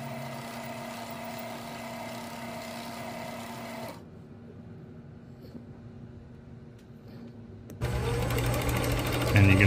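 Hollow-core braided line, 65 to 80 lb, winds onto an Abu Garcia 7000 baitcasting reel with a steady mechanical whir and hum that stops for a few seconds, then resumes louder.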